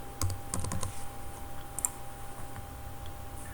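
Quiet computer keyboard typing while entering room labels in ARCHICAD, a brief cluster of light clicking keystrokes followed by a few isolated taps, faint and close, with no speech.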